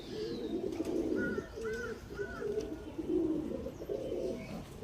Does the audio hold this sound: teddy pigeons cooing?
yes